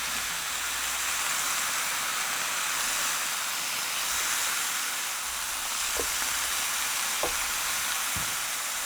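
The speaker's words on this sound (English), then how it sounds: "I've been letting these sit here fry away for probably about 3 minutes" Chicken kebab skewers sizzle steadily on a multicooker grill pan, a close, even hiss of frying with a few faint clicks late on, no voices.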